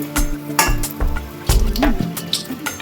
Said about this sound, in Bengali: এই যে ফাইনালি ভাজা চলছে মাছের কচুরি